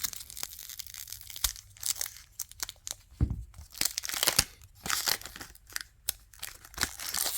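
A 1992 Topps Stadium Club baseball card pack is torn open up close, with bursts of crinkling and ripping foil wrapper and paper, uneven and scratchy, separated by brief quiet gaps. There is no talk.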